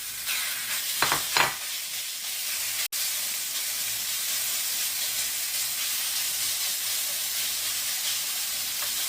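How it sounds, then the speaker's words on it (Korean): Marinated meat stir-fried in a pan for bamboo shoot japchae, a steady loud sizzle and hiss throughout with a few scraping stirs near the start, no talking. "양념에 둔 고기를 볶아야 되겠습니다"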